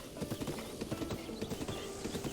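Horse galloping across open ground in Zelda: Breath of the Wild, a steady, rhythmic run of hoofbeats repeating close and clear throughout.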